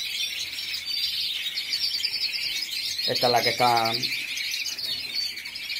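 Many caged birds chirp and twitter steadily throughout, a dense high chatter close by, while someone speaks briefly in Spanish partway through.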